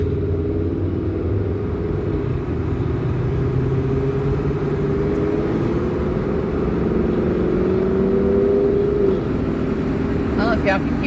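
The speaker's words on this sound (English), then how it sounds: "I don't know if y'all can hear that car." A car drives past on a road, its engine a steady low drone that swells and shifts pitch as it goes by, heard under continuous talking throughout.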